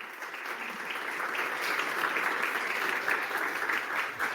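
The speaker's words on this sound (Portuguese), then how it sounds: "Por favor, uma salva de palmas" A Talk CON 2022 crowd applauds as Marcela Xavier is brought onstage, a soft, continuous wash of many hands clapping that swells slightly and holds steady with no voices over it.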